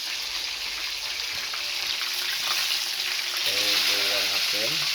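Pieces of home-fried chicken sizzle steadily in hot oil, a continuous bright crackling hiss close to the pan, with a voice talking briefly near the end.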